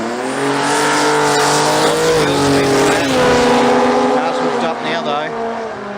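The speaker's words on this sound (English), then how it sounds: "Getting that power down, Mark, seems to be a real issue for a lot of these races today" Sports compact drag race cars launch down the strip at an Australian drag racing event in Brisbane, their loud engines roaring and rising with brief tire squeal, while a commentator talks over the noise.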